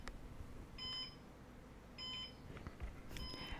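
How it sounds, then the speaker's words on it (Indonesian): Two electronic beeping bursts from a NAS device alarm, each a steady high-pitched tone lasting about a quarter second, with a third starting at the end, over low background hum. "Ada kayak alarmnya."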